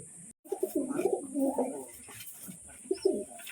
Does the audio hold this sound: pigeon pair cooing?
yes